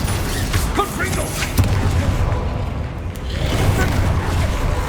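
Confringo, a fiery blasting spell cast in the Hogwarts Legacy video game, lands as a loud, dense rumbling burst with crackling, creaking debris noise that swells, dips briefly and swells again over several seconds of close, continuous game-combat din.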